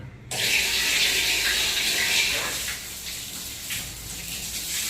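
Tap water gushes steadily into a kitchen sink while dishes are scrubbed, a close, loud continuous splashing that starts abruptly and eases slightly toward the end, with light clinks of utensils.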